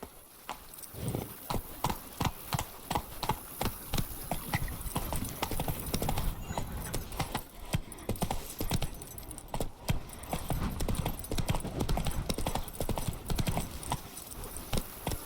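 Trotting hooves of the horse Roach in The Witcher 3 video game, a steady clip-clop rhythm close and loud throughout, with occasional game sounds and faint voices.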